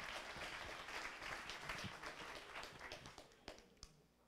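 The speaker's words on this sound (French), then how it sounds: "On peut applaudir." A conference audience applauds after a talk, a faint but continuous spread of many hands clapping in a large hall that thins out toward the end.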